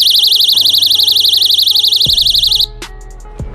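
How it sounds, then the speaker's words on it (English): A handheld personal attack alarm shrieks a loud, piercing warbling siren, rapidly oscillating and continuous, then cuts off abruptly, leaving some handling clicks and background noise. "a quick demonstration as to how these personal attack alarms work"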